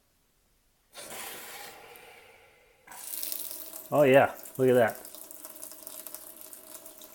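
Water runs from a kitchen faucet fitted with a Brita filter as it is flushed, a steady hiss and splash that starts after silence, with a person briefly speaking over it.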